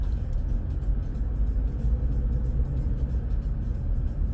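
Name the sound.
highway traffic driving into Baltimore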